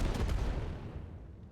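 Nobelisk explosives blasting small rocks in Satisfactory, heard as a burst of booming detonations up close, loud at first then rumbling away and fading.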